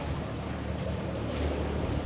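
A sailboat's twin engines run forward as it eases out toward deeper water on a sunny day, a steady low drone with faint water wash, close and continuous throughout.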